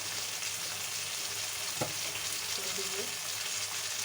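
Pangas fish belly pieces with onion, green chili and tomato frying in a pan, a steady soft sizzle with a brief clatter of stirring partway through, heard alone.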